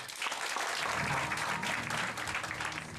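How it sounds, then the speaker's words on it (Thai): An audience at a Thai company business gathering applauds itself in a sustained, dense burst of clapping over a faint low hum from the room. "ปรบมือให้ตัวเองได้เลยครับ"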